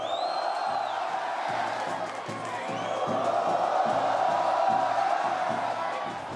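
A football crowd at a Grêmio Prudente Copa Paulista match cheers and chants in steady rhythmic waves, a dense roar from the stands with a pulsing chant beneath, some distance away.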